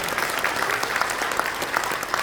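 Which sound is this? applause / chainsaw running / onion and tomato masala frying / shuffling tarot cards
applause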